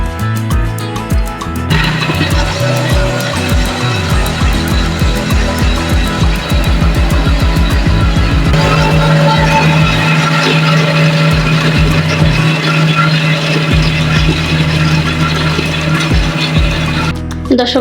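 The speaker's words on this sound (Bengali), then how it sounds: "এখন ব্লেন্ড করে নেব" An electric blender whirs through ripe mango sherbet ingredients with beet salt and green chillies, a loud steady motor drone that starts after a short pause and runs continuously to the end, shifting pitch midway.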